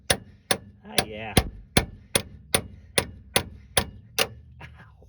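Steady hammer blows on a 1999 Suburban ball joint, about a dozen sharp metallic strikes at an even, roughly half-second rhythm, close and loud, with brief ringing and a short rattle early on.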